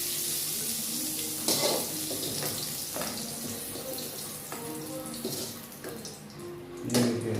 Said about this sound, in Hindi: ये देखिए आलू फ्राई हो गया।